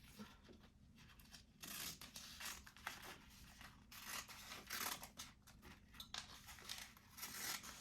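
Scissors snip through stiffening material for a cross-stitch wallhanging, with quiet irregular crisp cuts and crinkly rustles repeating close by at low volume.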